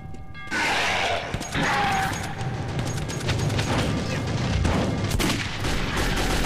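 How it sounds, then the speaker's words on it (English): Pistol gunshots in the video game Metro 2033 crack out in a dense, loud burst of fire over an ongoing clatter of combat noise for about six seconds. "one shot, one kill with this pistol. It's really powerful."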